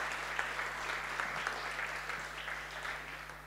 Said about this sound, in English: Kindly join me in extending a hand of applause to our panelists.